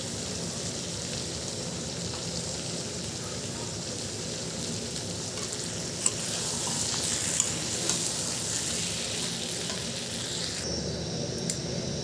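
Potato, pointed gourd and prawn curry sautéing in a pan, a steady close sizzle with faint scraping, growing slightly louder midway, no voices.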